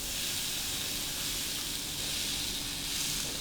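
Steak sears on a hot NuWave air fryer sear plate, giving a steady, loud, close hiss and crackle that holds without a break.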